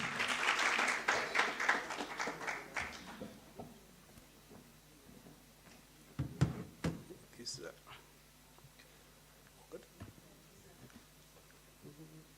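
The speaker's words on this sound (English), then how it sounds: "Round of applause for him." An audience at a research seminar on the SDGs and Agenda 2063 claps for about three seconds, a burst of applause that thins out into scattered room noise and a few knocks.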